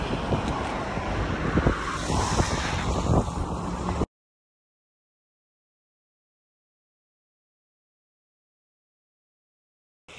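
A car driving along a road, its engine and tyre rumble mixed with wind noise, steady and fairly close for about four seconds before the sound cuts out to silence.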